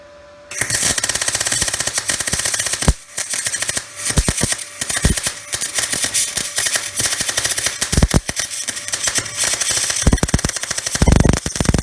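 Wire welding on a heavy-duty differential pan, set to high current after anti-spatter spray, gives a loud, close, continuous crackling buzz broken by a few short pauses.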